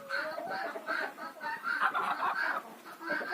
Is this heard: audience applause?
no